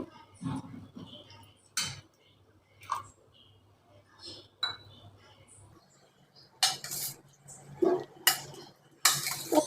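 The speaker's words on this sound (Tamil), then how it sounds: "கொஞ்சம் கலந்து கொடுத்துக்கிறோம்" Curd rice being mixed with milk in a bowl, with scattered clinks and scrapes of a spoon against the dish, sparse and close, separated by quiet gaps and faint background noise.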